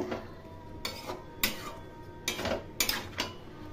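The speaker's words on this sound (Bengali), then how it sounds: "খুব ভালো করে কষিয়ে নিচ্ছি" A spoon scrapes and knocks against a pan while brinjal curry is sautéed, giving several uneven bursts of clatter over a quiet sizzling background, close and moderately loud, with no speech.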